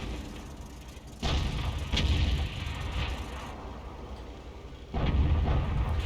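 Cannon fire from a T29 heavy tank in World of Tanks, heard as two loud booming blasts about four seconds apart, each a broadband thump with a rumbling tail over steady low engine and battle noise.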